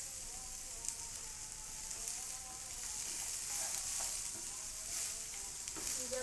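Sliced onions sauté in a pan, giving a steady, soft, continuous sizzle and crackle with occasional faint scraping, close by and alone.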